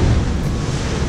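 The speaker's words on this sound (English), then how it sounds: "We see waves coming in, making a thunderous crash" Ocean waves surge and crash into the Pancake Rocks blowholes on the coast, a dense, loud rumbling wash mixed with wind buffeting the microphone.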